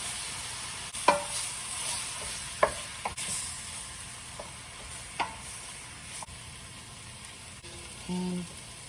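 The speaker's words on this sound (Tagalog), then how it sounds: "I am going to saute this with this first 3 ingredients" Small pieces of pork loin sautéing for Bicol Express, a soft sizzle with a few sharp clinks and scrapes of a utensil stirring in the pan, fairly quiet and close.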